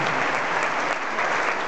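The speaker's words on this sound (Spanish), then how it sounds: "fuerte el aplauso para ellos que hacen posible y también ustedes estar aquí esta noche" A concert audience at a mariachi show applauds at night, a dense, steady, loud wash of clapping that fills the whole stretch without a break.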